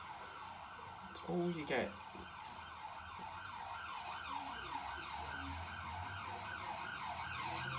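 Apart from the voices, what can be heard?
ambulance siren passing on a nearby main road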